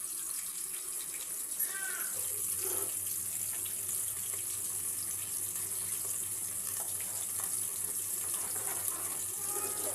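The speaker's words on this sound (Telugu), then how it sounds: "కొన్ని నీళ్ళు పోసి కలుపుకోవాలి." Water runs steadily from a tap or is poured into a pot of aloo capsicum masala curry, a continuous hiss with a low steady hum underneath, no talking.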